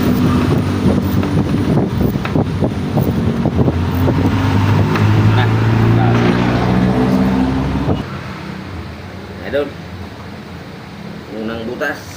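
Steady road traffic noise rumbles throughout, with passing vehicles and someone talking over it in the Philippines, then the roar drops off sharply near the end.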